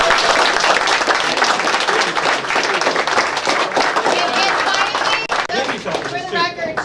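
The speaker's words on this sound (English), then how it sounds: "please give them a big round of applause." Audience at a DJSA 2014 season awards pre-ceremony breaks into a loud, sustained round of applause with cheering and crowd chatter mixed in, tapering slightly near the end.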